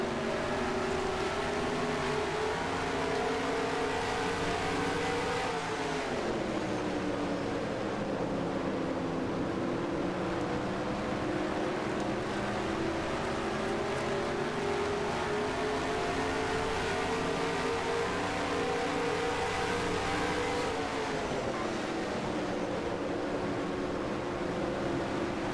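Simulated race truck engines from NASCAR Racing 2003, a steady loud drone whose pitch rises and falls as the trucks go through gears and corners, continuous throughout with no talking.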